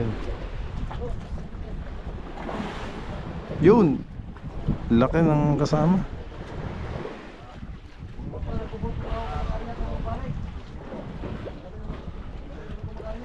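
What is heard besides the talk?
strong wind at sea on a fishing boat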